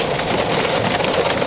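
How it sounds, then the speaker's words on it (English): Heavy rain pours down at a skydiving drop zone, a loud, dense and steady hiss of drops drumming on surfaces with no letup. "it's getting rainy. Maybe it's a little bit loud for you"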